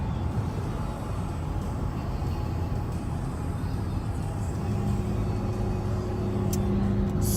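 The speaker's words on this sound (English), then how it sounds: "There is a ton of traffic." Dense morning commute traffic rolls past as a continuous low road rumble of cars, heard from inside or beside a vehicle, with a steady engine drone rising slightly near the end.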